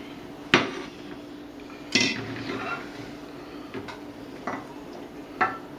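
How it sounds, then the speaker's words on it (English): A spoon scrapes and clinks against a bowl while bean hash is scooped in, giving a handful of separate metallic knocks spread out over a few seconds. "here, let me scoop some in this bowl here."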